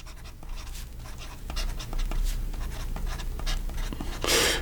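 A TWSBI Vac700 fountain pen with a medium steel nib and Iroshizuku Yu-yake ink scratches steadily across paper in a soft, continuous close-up stroke sound, with a brief louder rustle near the end.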